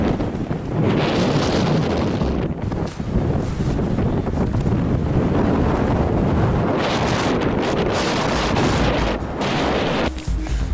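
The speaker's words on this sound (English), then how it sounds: "This is really a harsh wind today." Strong, harsh wind sweeps across an open snowy field, roaring loudly and continuously into the microphone with gusting surges and no talking.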